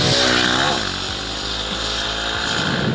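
A TVS Ronin motorcycle's exhaust, a loud, close, deep and bassy engine drone that stays steady throughout with slight rises in revs.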